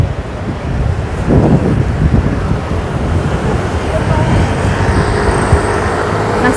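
Gusty wind blows loudly across an outdoor microphone, a steady broadband rush with rumbling buffets, while a voice talks faintly underneath.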